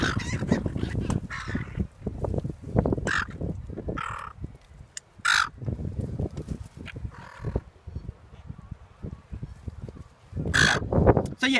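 Seagulls call outdoors in a series of loud, harsh squawks, some near and some farther off, separated by short pauses with faint background noise.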